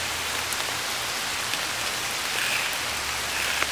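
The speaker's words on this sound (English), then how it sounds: "Oh wow, it's really raining now." Heavy rain pouring down in a Maryland forest, a dense, steady hiss of drops on leaves and ground, close and continuous, with no talk.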